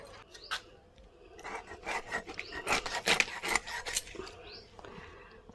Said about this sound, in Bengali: প্রথমে মাছগুলো আমি কেটে নেব ভালো করে,